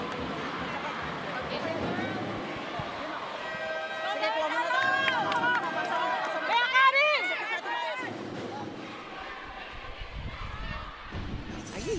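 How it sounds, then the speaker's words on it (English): Crowd at a PLDT vs. Akari professional volleyball match in the PVL cheers and roars, swelling into a loud surge of voices in the middle before settling back under ongoing commentary. "hearing the cheers from the crowd"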